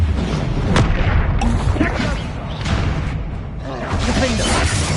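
The Confringo fire spell explodes in Hogwarts Legacy amid a dense, loud wash of booming impacts, whooshes and crackles from game combat. The din continues throughout, with a spoken voice mixed in.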